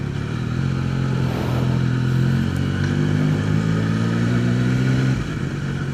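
A motorcycle engine, warmed to about 55 degrees Celsius, idles and rolls along slowly out of a car park with a steady low hum and no hard revving, close and continuous before easing slightly at the end.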